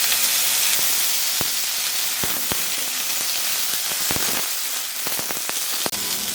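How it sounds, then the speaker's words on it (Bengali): Okra and capsicum fry in a little oil in a pan, giving a loud, continuous sizzling hiss scattered with sharp pops and crackles. "ভেন্ডি আর ক্যাপসিকামটা ভেজে নেব,"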